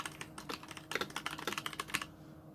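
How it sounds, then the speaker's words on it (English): Rapid typing on a computer keyboard with keys that light up when pressed, a quick irregular run of close, crisp key clicks, then a brief pause at the end. "Each individual key lights up as you press it"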